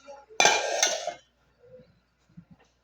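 Metal cooking pots handled in a home kitchen while preparing to boil eggs, one loud close clang and scrape followed by a few faint knocks and clinks.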